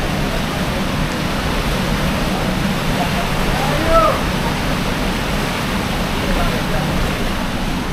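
Steady broadband wash of open ocean and wind heard from the deck of the Norwegian Aqua cruise ship on a sea day, a constant even roar with no distinct waves breaking and no speech.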